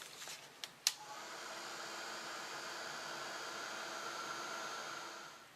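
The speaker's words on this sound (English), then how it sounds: "So now that you've heated the pearlescent embossing powder around the label" A heat tool blows a steady, faint hiss of hot air while melting pearlescent embossing powder onto a stamped label, preceded by a few quick taps.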